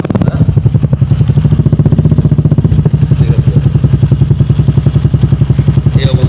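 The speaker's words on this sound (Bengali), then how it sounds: "ইঞ্জিন একদম স্মুথ সাউন্ড এবং স্যালেন্সারের সাউন্ডটা শুনেন" A motorcycle engine idles close by with a steady, rapid exhaust thump, running evenly and loudly throughout.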